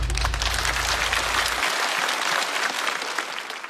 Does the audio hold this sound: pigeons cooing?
no